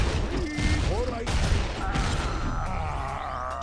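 Gunfire aimed at zombies in a zombie-mode shooter game, irregular shots and bursts mixed with game effects and background voices, fairly loud and continuous throughout.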